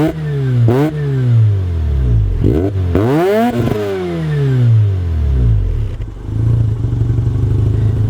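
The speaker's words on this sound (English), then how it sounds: "It's a naturally aspirated rotary, so they tend to be kind of raspy and not the most amazing sound" A Mazda RX7's naturally aspirated rotary engine with a cheap exhaust fix revs repeatedly, each raspy rise in pitch falling back to idle. Several sharp blips come close together, then it settles into a rough, buzzing idle.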